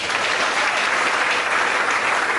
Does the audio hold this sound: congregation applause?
yes